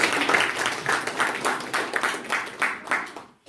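An audience in a hall claps in a series of rhythmic bursts, roughly a clap every third of a second, moderately loud and fairly close, breaking off abruptly near the end.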